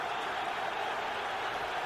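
Football stadium crowd at a Giants home playoff game against Carolina, a steady broad roar of cheering and noise filling the whole stretch at a distance, with no distinct claps or voices standing out.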